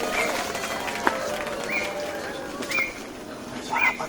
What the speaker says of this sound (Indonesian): Burung itu mah Pak.